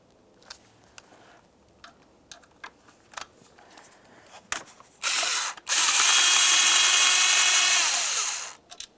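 A power tool works loose the 7 mm bolt holding the ignition coil to the intake on a Mercury Grand Marquis, with scattered clicks and ratcheting bursts before a short whir, then a longer, loud, steady run close by.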